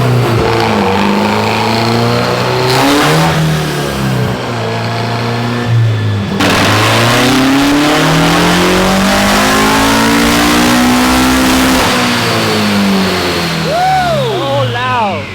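A rear-wheel-drive swapped Honda Civic revs hard on its first full pull, the engine note climbing loud and close with a brief shift dip, and a voice briefly heard over the roar.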